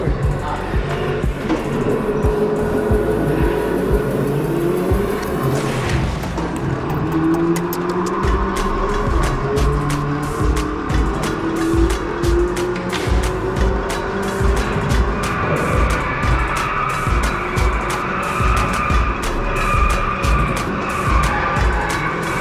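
Go-karts racing around a track in Addis Ababa, a continuous loud engine drone with tire skids and squeals as karts pass nearby, with some speech mixed in.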